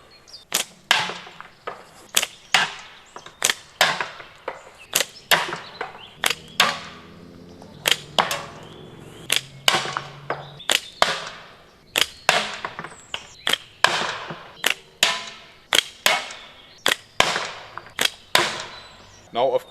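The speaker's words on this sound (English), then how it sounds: "So let's do a few shots" Slingshot shots fired repeatedly, a rapid series of sharp, loud snapping releases and impacts in a steady rhythm, close by with no talking.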